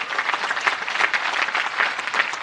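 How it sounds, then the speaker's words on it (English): A large audience applauds at the Williams College 2025 commencement ceremony, a sustained, dense wash of clapping that holds steady for a couple of seconds, with no speech over it. "they deserve your applause too"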